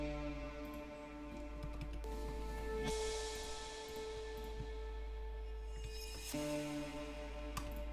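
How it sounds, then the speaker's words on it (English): Synth phrases washed in heavy reverb and echoing delay, notes smearing into long trailing tails that blur together, playing alone. "once you put a ton of reverb and delay and OTT before, they sound like this."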